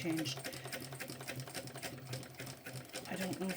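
A sewing machine fitted with a servo motor stitches a backpack slowly, its needle clattering in a quick, steady rhythm close by while someone talks over it.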